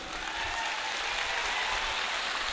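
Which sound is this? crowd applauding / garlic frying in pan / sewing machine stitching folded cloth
crowd applauding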